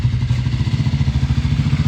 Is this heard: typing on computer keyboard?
no